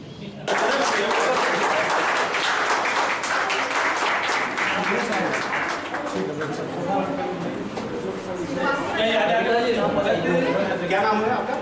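Applause welcoming a new member into the Bharatiya Janata Party at a local gathering, a loud continuous burst of many hands clapping nearby, with voices chattering and speaking underneath throughout.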